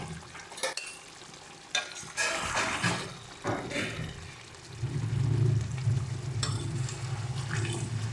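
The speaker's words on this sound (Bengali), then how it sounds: "একটু মিশিয়ে নেব এবার এটাকে" Rita fish curry with tomato is stirred in a pan, with scattered scraping knocks followed by a steadier sizzling bubble in the second half, fairly faint overall.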